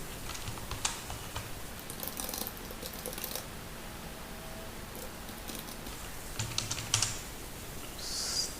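Computer keyboard typing while text is entered into a Google Sites page, quiet irregular bursts of clicky keystrokes close by, with pauses between runs and no talking.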